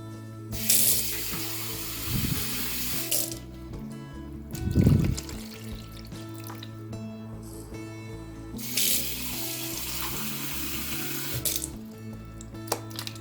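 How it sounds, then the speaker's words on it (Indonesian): Water poured into the reservoir of a Russell Hobbs electric steamer, filled only to the minimum line, splashes and trickles in close bursts from a tap, with quieter pauses and a small clunk between the pours. "Jadi kita isi airnya. Ini aku sampai batas minimal aja."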